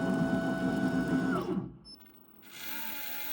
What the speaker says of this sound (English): we are going to carry out the boring operation for the bearing mounting point